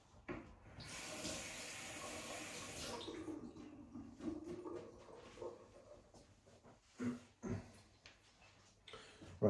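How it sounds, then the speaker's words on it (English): Hands washed under a running tap while preparing fishing bait, a quiet steady stream of water hissing for a few seconds, then fading into faint splashes and handling noises. "Just have to wash my hand."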